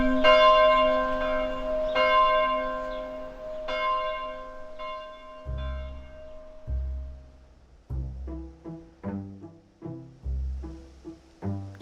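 An old church bell tower rings with long, resonant, overlapping strikes at first, then a quicker run of shorter, descending peals that ring out clearly and loudly with no voices.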